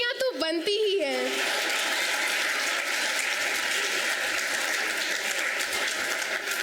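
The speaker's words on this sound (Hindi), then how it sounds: "इनके लिए तालियां तो बनती ही हैं।" Clapping from an audience at a school Independence Day celebration for young performers, a dense continuous wash of applause following a short sung or spoken phrase at the start, sustained and even throughout.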